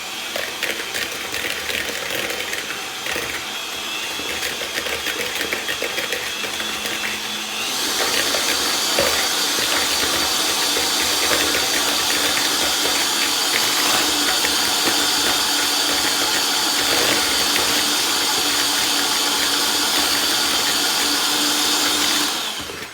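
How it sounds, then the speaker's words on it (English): An electric hand mixer creams biscotti dough in a steady, loud, close whirring drone that shifts up a notch partway through and runs almost the whole time before cutting off at the end. "Now I have a hand mixer that I use for this"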